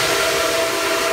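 A bluegrass fiddle, played with slides and double stops, holds a steady, whistle-like tone imitating a train whistle, sustained and even for about a second, with no voices.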